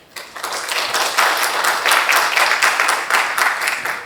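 An audience at a pharmaceutical, biotech and healthcare industry forum breaks into applause, swelling quickly from near silence into a full, steady clatter of many hands.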